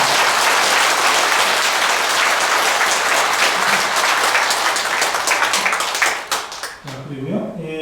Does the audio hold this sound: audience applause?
yes